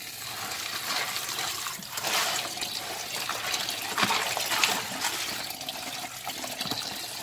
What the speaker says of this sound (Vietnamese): Để rửa sạch đi thôi.